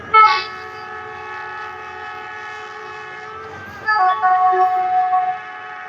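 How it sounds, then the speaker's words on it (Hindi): A Bullet Express train arriving at a station near a closed level crossing, its loud horn blaring steadily and sustained, rising again in a second louder blast toward the end, with rail clatter underneath. "ट्रेन आ गई जी ट्रेन आ गई ये आ गई ट्रेन"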